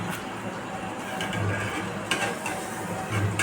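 Jackfruit malpua batter mixed with rice flour fries in white oil, a continuous close sizzle with light stirring and occasional clinks of a utensil against the pan.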